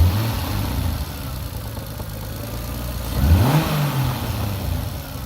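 Turbocharged manual Lexus IS300 engine idling steadily with a deep low hum, then briefly revving up and settling back down, with a faint suspected internal knock.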